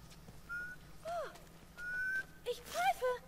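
A character in The Last of Us whistles a few short rising and falling tones in separate bursts, close and fairly clear over a quiet game background.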